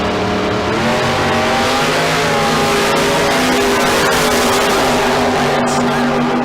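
Corvette roadster and Mustang launching side by side in a drag race at Tucson Dragway, engines roaring loud and steady throughout with strong harmonic drone, a brief tire chirp near the end.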